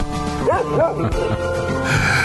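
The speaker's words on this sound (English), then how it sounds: "She's a good dog." A dog gives a couple of short yipping barks, close and fairly loud, over a steady background hum on a Texas podcast episode.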